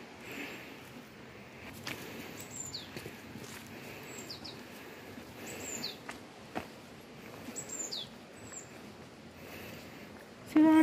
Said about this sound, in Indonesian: Suara burung-burung.